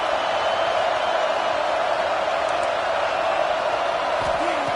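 Stadium crowd at a Miami vs Clemson football game roars in a dense, continuous wall of noise, loud and sustained throughout with no break.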